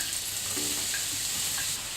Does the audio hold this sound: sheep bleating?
no